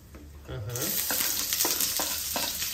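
Chopped onion hits hot oil with cumin in a home kitchen pan, starting a sudden sizzle that keeps crackling under rhythmic scraping stirs, fairly faint and with no talking.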